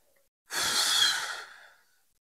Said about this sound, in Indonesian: keluarkan napas saudara seperti orang bersiul halus dan panjang